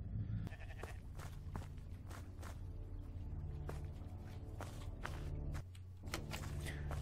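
A black goat in a horror video game bleats in brief, repeated calls over footsteps and a low droning ambience, fairly close and with no talking.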